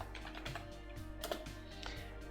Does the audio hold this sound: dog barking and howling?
no